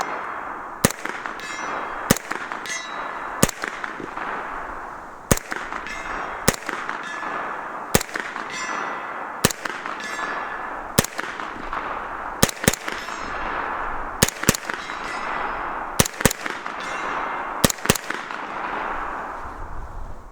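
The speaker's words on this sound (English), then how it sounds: "So let's shoot a few rounds through it" An AR-9 pistol-caliber carbine fires at steel targets, with about fifteen sharp, loud shots spaced irregularly over twenty seconds, some close pairs, against a hissy outdoor background.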